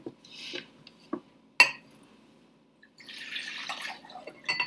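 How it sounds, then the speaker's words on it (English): Water is poured into a different cup, a short splashy trickle after a few light clinks of the cup, fairly close and without talking. "We can now pour this water into a different cup."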